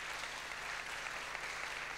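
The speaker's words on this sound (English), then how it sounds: "another brief round of applause to say thanks to our panel." A congregation applauds briefly at an evening service in a Baptist church in Kirkintilloch, a steady, dense wash of clapping filling the room at even loudness throughout.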